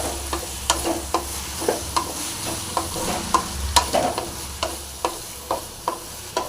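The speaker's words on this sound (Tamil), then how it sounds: "வாழைக்காய் போட்டு நல்லா கலக்குங்க." Raw plantain pieces sizzle in a pan as a spoon stirs them, with repeated scraping taps at an irregular rhythm over a steady, close frying hiss.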